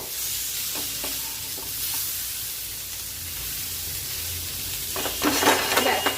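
Sautéed vegetables seasoned with ground black pepper, stirred in a pan as a child's tiffin dish, with a steady frying hiss and light spatula scrapes that swell into louder sizzling and stirring near the end.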